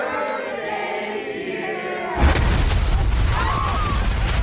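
A sudden deep boom from an explosion in a TV drama, breaking a quieter stretch and leaving a loud, sustained rumbling roar with crackling debris that continues to the end.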